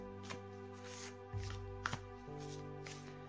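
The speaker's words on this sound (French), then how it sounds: "Donc je vais procéder au mélange des cartes." A deck of tarot cards being shuffled by hand, heard as a few faint, quick riffling and tapping bursts over a low steady hum.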